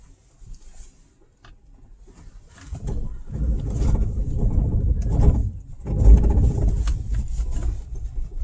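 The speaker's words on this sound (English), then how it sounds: "That would be anti-lock brakes." A car's anti-lock brakes engage in light snow with a low, rapid pulsing rumble, coming in two stretches over the hum of the moving vehicle.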